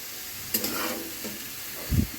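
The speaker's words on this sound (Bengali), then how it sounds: "কাঁচামরিচ পেঁয়াজ লবণ হলুদ দিয়ে এখন আস্তে আস্তে করে ভেজে নিব" Green chili, onion, salt and turmeric fry in a pan with potato, a soft continuous sizzle with a couple of stirring scrapes and a louder knock at the end, close with no talking.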